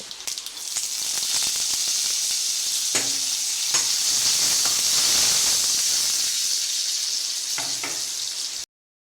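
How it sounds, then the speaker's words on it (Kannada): Dried red chillies and neem leaves are tempering in hot oil, giving a loud, close, continuous sizzle with a few faint pops and stirring clicks. The sizzle cuts off abruptly near the end. "ಬೇವಿನ ಸೊಪ್ಪು ಹಾಕಿ ಒಗ್ಗರಣೆ ಮಾಡಿಕೊಳ್ಬೇಕು"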